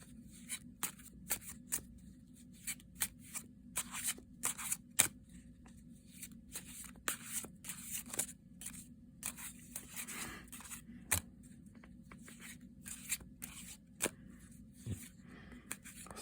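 A Dreamkeepers tarot deck is shuffled by hand, giving soft, quick riffles and card slaps in irregular bursts, close and quiet with no talk.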